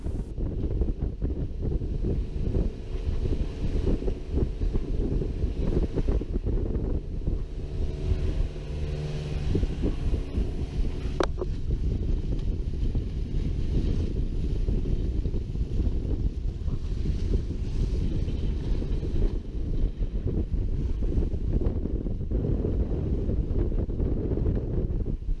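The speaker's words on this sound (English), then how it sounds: "We were able to motor sail at over 6 knots." An S2 11.0 C sailboat motor-sailing off southwest Florida at over 6 knots, with steady low engine drone, rushing water and heavy wind buffeting on the microphone throughout, no voices.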